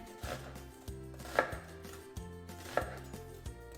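Onions chopped with a knife on a board, steady evenly spaced blade strikes with a couple of sharper knocks, close and alone.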